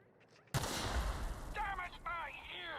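A gunshot in The Outer Worlds: one sudden, loud blast followed by a long noisy ringing tail, with a voice speaking over the last second.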